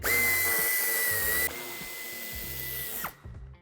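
Power drill whining steadily as it backs out screws from the bumper of a 2021 Renault Arkana, loud and close, with a brief pitch change midway and the motor winding down at the end.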